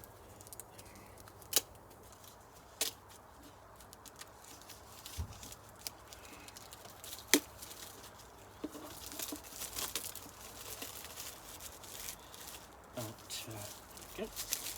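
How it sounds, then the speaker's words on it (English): A knife slices through the cellophane shrink-wrap on the boxed Second Edition of The One Ring tabletop roleplaying book, giving quiet, sporadic crinkles, tears and sharp plastic snaps over a faint room background. "Just get the knife into the cellophane so I can wrap."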